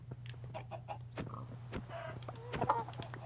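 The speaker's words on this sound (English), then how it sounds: "Oh my god, there's so many chickens." Chickens in the video game Minecraft, a series of short clucks and squawks scattered over a low steady hum, several birds close by with no speech.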